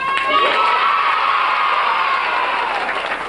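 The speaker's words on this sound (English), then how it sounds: "I want you to clap really loud and go, yay!" Children in a group shouting and cheering a loud, sustained "yay" with some clapping mixed in, a dense crowd roar lasting the whole few seconds and fading slightly at the end.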